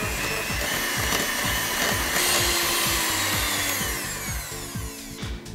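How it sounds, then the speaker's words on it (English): An electric mixer whisks butter and caster sugar for a vanilla cupcake sponge, giving a loud, steady motor whir with a beater rattle that holds throughout and eases slightly near the end. "You want to whisk it until it's really nice and light and fluffy"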